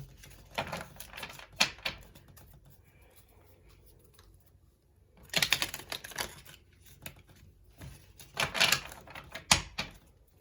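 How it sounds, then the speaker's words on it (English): Tarot cards are shuffled in several quick bursts of riffling and flicking, separated by short quiet pauses, close and crisp. "Let me shuffle here."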